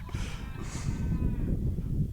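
Players in a dugout at a high school baseball game imitate goats, letting out a couple of drawn-out, wavering bleats that sound some distance away over low background ambience.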